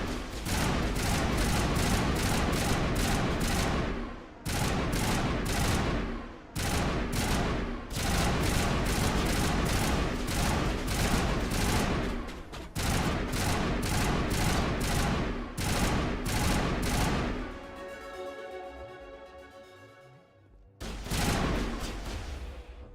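A Terminator machine gun in a modded Mass Effect Legendary Edition fight, firing long, rapid, very loud sustained bursts with short gaps between them, a wobbling electronic tone near the end.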